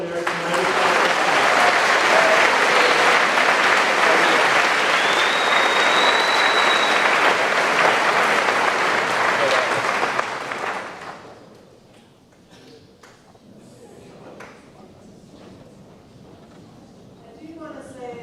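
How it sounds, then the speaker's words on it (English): Loud, dense audience applause fills a 2023 high school senior awards and cording ceremony, holding steady for about ten seconds before fading to scattered claps and quiet room noise. "applause"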